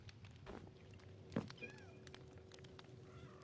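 A white cat named Snowfall gives a faint, short meow in a snowy survival video game, heard once near the middle over a low steady hum, with a soft thump nearby.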